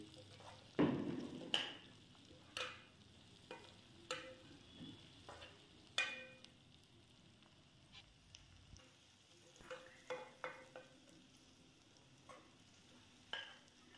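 Green chilies with beans and potatoes cook in a pan, with a faint sizzle under a series of sharp spoon scrapes and knocks spaced every second or so.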